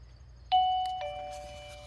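A solar driveway alarm's receiver sounds its doorbell chime: one loud, close two-tone ding-dong that rings out and decays slowly, with nothing else audible.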